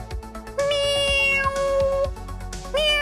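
A person's voice imitates cat meows: a few drawn-out, rising and falling meows, loud and close, separated by short pauses.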